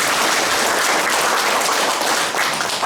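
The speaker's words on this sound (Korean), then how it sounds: "큰 박수 한번 부탁드립니다" Crowd applause at a Korean political rally endorsing a farm-leaders' candidate, a steady dense wash of clapping that fills the whole stretch at full strength with no voice over it.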